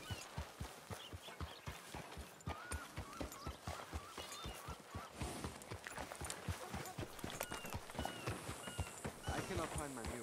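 Horse hooves clip-clop at a steady walking pace in Red Dead Redemption 2, close and distinct, while voices talk over them.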